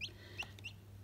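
A chick newly hatched in a home incubator gives a few thin, high chirps close by over a low, steady hum, with nothing else heard.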